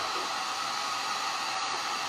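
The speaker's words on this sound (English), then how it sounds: "Let's get that with the heat gun from very high" Heat gun blowing hot air over resin magnets: a steady, even, close rushing whoosh held continuously without change, with no voices.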